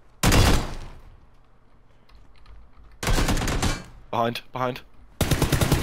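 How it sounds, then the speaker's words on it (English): Hip-fired gunshots in PUBG, a loud single shot followed by rapid automatic bursts, with a brief spoken word between them. "I had to shoot him like hip fire because I had an 8x on"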